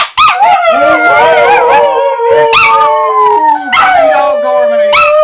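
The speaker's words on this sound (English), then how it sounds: "Three dog harmony." Three dogs howl together loudly and continuously in overlapping, wavering tones, one a deep baritone, with sliding pitches rising and falling and occasional yips throughout.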